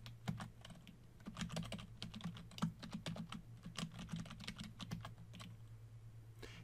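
Rapid keystrokes on a computer keyboard as a terminal command is typed, irregular clicky bursts at close range with a low steady hum underneath.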